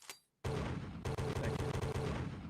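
A dense burst of gunfire sound effect erupts after a brief quiet moment, a rapid string of loud, close shots rattling on like a fusillade for about two seconds.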